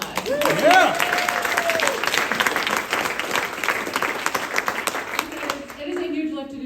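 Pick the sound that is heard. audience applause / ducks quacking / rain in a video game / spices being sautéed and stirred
audience applause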